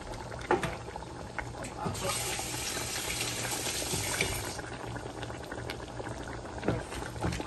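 Crab gravy bubbles and simmers in a pan, a soft continuous boil with occasional louder pops and gurgles, faint and close, without speech.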